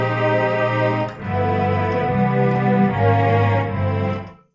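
Sustained string-ensemble chords from a Velocity Strings sound font played on a keyboard, loud and close, with two brief dips where the chord changes before the final chord fades out.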